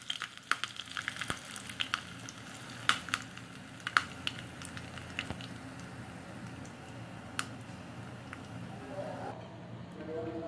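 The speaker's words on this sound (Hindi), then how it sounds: "मेरा तेल गरम हो गया है, इसके अंदर मैं अब एक टीस्पून राई डाली हूँ। अब मैं इसमें कड़ी पत्ता डाल रही हूँ।" Mustard seeds and curry leaves crackle in hot oil, tempering a chutney to serve with idli. A steady close hiss carries scattered sharp pops and spits throughout, with no talking.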